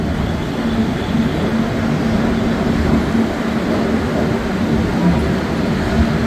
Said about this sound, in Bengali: ট্রেন শিয়ালদাতে এলো 11 নম্বর প্ল্যাটফর্মে